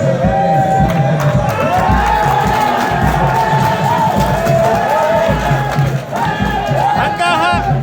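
A loud crowd of secondary school fans at a Heroes Day event in Rubavu cheers and shouts without a break, with many overlapping voices whooping and calling out near and far.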